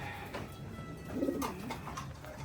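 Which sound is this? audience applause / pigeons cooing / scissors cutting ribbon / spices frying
pigeons cooing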